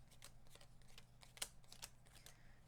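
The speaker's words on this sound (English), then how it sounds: "So this is our new discard. And I'll just quickly shuffle." Cards being quickly shuffled during a Sword & Sorcery board game, a quiet run of crisp riffling flicks with one sharper snap in the middle, heard alone without talk.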